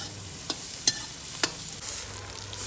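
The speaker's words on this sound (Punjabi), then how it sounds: "ਲਓ ਜੀ ਤੜਕਾ ਭੁੰਨ ਲਿਆ" Onion tempering for kadhi frying in a small pan, a soft continuous sizzle with three or four brief sharp taps of a spoon against the pan, close but fairly quiet.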